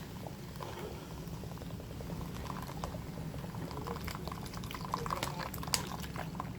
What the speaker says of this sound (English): Then we're gonna add the beer.